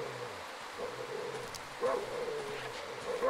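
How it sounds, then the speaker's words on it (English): A dog barks in the survival horror game Darkwood, with short yips and barks repeating over a dark ambient background, moderately distant and not very loud. "Oh, that's a dog"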